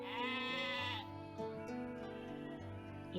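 Sheep bleating in a cozy life-sim game, a single long nasal bleat up close followed by softer bleats over gentle background music, no talking.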